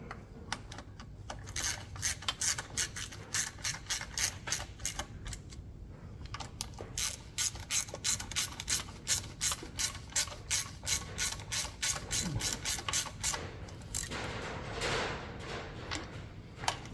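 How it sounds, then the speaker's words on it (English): A ratchet clicks rapidly and steadily as bolts are run back up during a cambelt change on a 2019 Skoda, with long bursts of fast metallic pawl ticks, close and fairly quiet. "Take our ratchet and do these back up."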